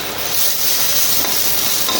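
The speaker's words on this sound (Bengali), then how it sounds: "রসুন পেঁয়াজ ভাজতে দিয়েছি" Garlic and onion fry in a wok with a loud, dense, continuous hiss of hot oil, close up and unbroken, with no voices.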